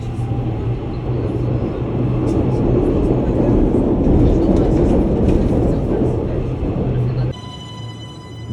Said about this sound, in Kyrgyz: Метросын бир өзгөчөлүгү, булардын тоого асмандан учат экен, асмандан өтөт экен.